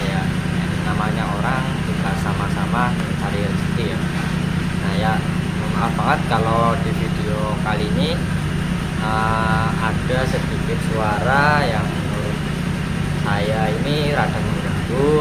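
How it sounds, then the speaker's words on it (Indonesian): A rice milling machine running nearby gives a steady, loud low drone throughout, while someone talks continuously over it. "ini emang lagi ada tukang klip ya, ataupun ya mesin penggiling padi"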